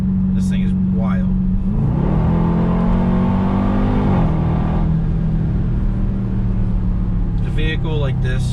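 2021 Dodge Durango Hellcat accelerating hard in sport mode, a loud deep engine roar rising in pitch through a gear change, then settling into a steady cruise, with voices talking over it near the end.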